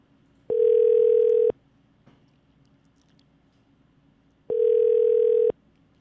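A telephone rings on a call with two long, steady electronic ring tones separated by a few seconds of near silence.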